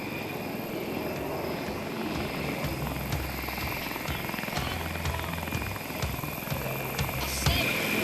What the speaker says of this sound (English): he will accelerate rapidly and snap the Fighting Falcon through 3 aileron rolls, demonstrating its exceptional rolling maneuverability